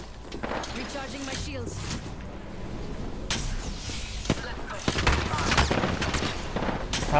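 Gunfire in the Apex Legends video game, with bursts of shots and sharp cracks coming through a busy, steady mix of game sounds, while a voice talks over it.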